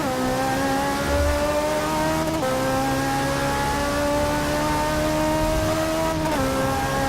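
A Ferrari race car in Forza 7 revs with a steady, sustained engine whine, holding pitch with brief shifts at two points, moderately loud throughout.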